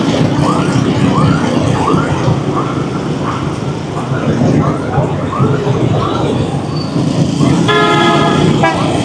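Vehicle horns toot repeatedly amid dense traffic on a busy central Saigon street, a steady rumble of engines beneath, with a brief squealing bus horn near the end.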